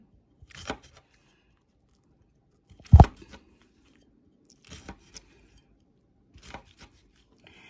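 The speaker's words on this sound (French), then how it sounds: "je suis en train de couper un citron" A knife cutting through a lemon on a board, a few separate soft chopping thuds with one sharper, louder cut, spaced by quiet pauses, close by and without talk.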